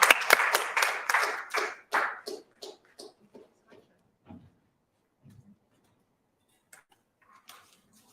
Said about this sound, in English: let's give a warm hand of applause for Advocate Goliath